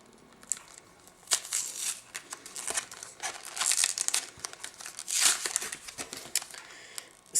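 Crinkly plastic packaging of a makeup product is torn and opened up close, producing a run of irregular crackling, crumpling and rustling bursts at a fairly quiet level with no talking.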